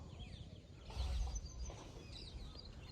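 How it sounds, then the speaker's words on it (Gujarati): Birds call faintly in the distance in the morning on a farm, with soft clucking and chirps over a steady outdoor background hum. "પક્ષીઓ બોલે છે મસ્તીના"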